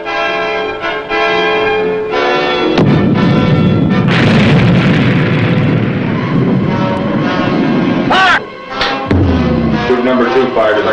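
A torpedo launches from the submarine USS Tirante, a deep booming rush that swells from about three seconds and holds loud and broad, layered under sustained dramatic orchestral music with a brief dip near the end.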